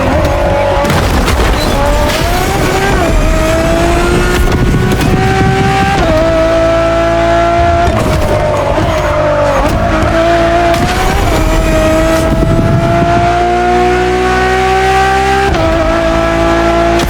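Ferrari road-legal Formula One car in the racing game The Crew Motorfest, its engine screaming loud and continuous at close range, pitch climbing through the gears with brief drops at each shift and occasional booms and tire noise.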